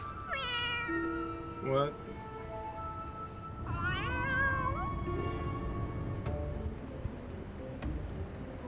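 Several cat meows from Final Fantasy XIV, rising and falling in pitch, sound close and clear over game background music, while a voice speaks briefly.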